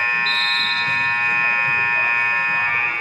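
A loud, steady electronic horn blares for about three seconds, the end-of-quarter buzzer at a PSAL girls' high school playoff basketball game between the Clinton Hawks and Archimedes Academy Griffins, sounding over crowd noise in a gym.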